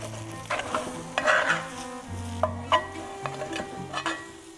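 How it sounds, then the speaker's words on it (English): Spoon stirring chickpea flour batter as it cooks in a hot pan, repeated scraping strokes and soft knocks over a steady sizzle, close and without speech. "let it set for a minute and then give it a stir to break it all up"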